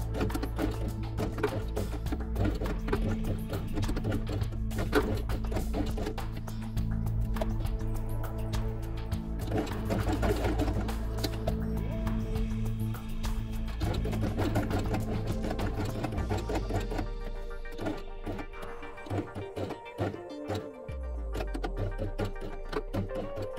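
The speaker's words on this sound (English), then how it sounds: "At the beginning and end of sewing, sew forward and back and repeat 3 times." A sewing machine stitches felt pieces for a quiet book, its needle running in a steady, fast mechanical rhythm throughout, close and continuous with a slight change near the end.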